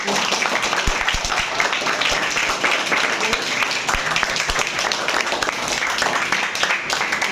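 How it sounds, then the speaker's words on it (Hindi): An audience at a motivational gathering breaks into loud, dense clapping that continues steadily for several seconds, close and filling the room. "एक बार इनके लिए जोरदार ताली बजाएंगे मेरे साथ।"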